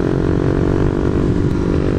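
A single-cylinder KTM Duke 390 motorcycle pulls steadily at low revs in fourth gear, a deep rhythmic thrum that stays loud and constant throughout.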